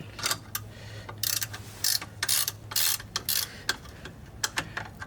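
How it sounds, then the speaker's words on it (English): A ratchet wrench with a reversing lever working on an engine mount of a 2009 Chevrolet Aveo5, giving a series of sharp, quick clicking bursts in irregular spurts, close and fairly loud over a low steady hum. "If you get the flat head, every time you're ratcheting, you're scraping your knuckles."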